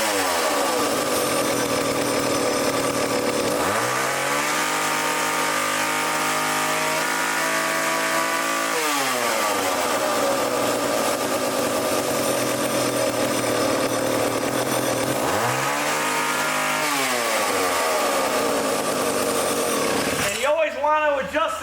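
A chainsaw engine runs after a carburetor idle adjustment, settling to a rough idle and then revving up twice in long climbs before dropping back, with a sharp burst of different noise at the very end.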